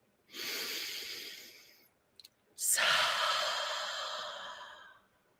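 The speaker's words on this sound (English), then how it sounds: "So inhale through your nose, exhale out your mouth" Two long breaths at close range in a guided breathing exercise: a steady airy inhale through the nose, a short pause with a faint click, then a fuller, louder exhale out through the mouth, with no talking.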